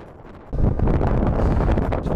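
Strong headwind of about 25 to 30 mph roaring across the microphone of a cyclist on a long-distance ride, quiet at first, then a sudden loud, sustained buffeting gust.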